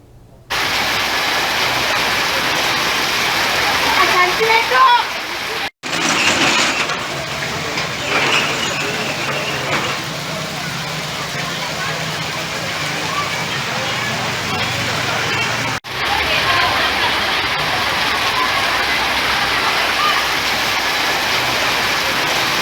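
Steady unseasonal rain falls on an outdoor market, a dense continuous hiss held at an even loudness for the whole stretch, with two brief dropouts and faint indistinct voices mixed into the wash.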